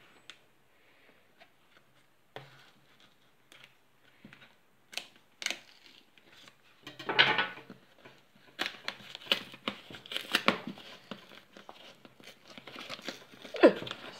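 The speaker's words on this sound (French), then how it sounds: "Déjà, on va commencer par déballer." A cardboard package is opened and unpacked by hand, with soft crinkling, tearing and scraping that start faint and sparse and grow busier and louder in the second half, heard up close in a quiet room.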